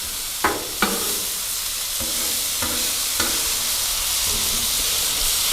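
Vegetables sizzle gently on a griddle over low heat, a soft, even frying hiss with a few faint clicks of utensils scattered through.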